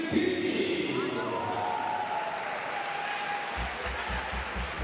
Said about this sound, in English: one of the craziest, liveliest crowds in ABL